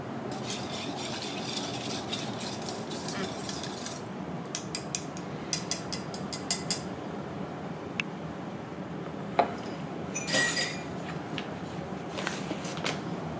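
Brownie batter of honey, vanilla, coconut oil and cashew milk being stirred in a bowl, giving steady soft scraping with scattered louder clinks of utensil against the bowl, close and fairly quiet, without talk.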